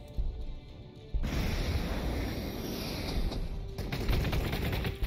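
A bolt gun fires in rapid, loud bursts in the video game Warhammer 40k Space Marine 2, breaking in after a quieter opening and continuing over dense, roaring combat noise.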